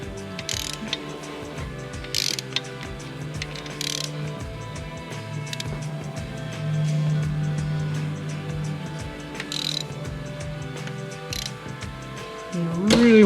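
A ratchet wrench breaks loose the rod bearing cap bolts on a BMW S85 V10 engine from an M5/M6, giving several short, close ratcheting bursts spread across the clip over a steady low hum.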